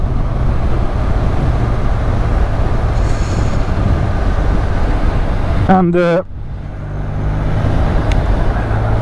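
A Benelli 502 C motorcycle with its stock exhaust drones loudly and steadily while riding, a low continuous engine note under wind, with a single brief spoken word partway through.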